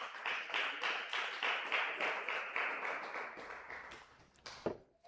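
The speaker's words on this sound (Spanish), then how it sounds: "Da un fuerte aplauso al Señor, mi amado hermano" A church congregation gives loud applause to the Lord, a steady wash of many hands clapping that goes on for several seconds and then breaks off, with a few stray sounds at the end.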